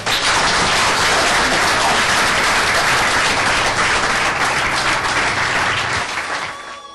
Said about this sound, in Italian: l'applauso finale abbia detto molto